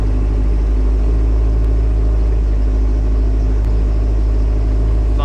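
A diesel-powered Jeep TJ Wrangler in two-wheel drive high climbs a hill, its engine giving a steady, loud, close low rumble throughout with the throttle held fairly even.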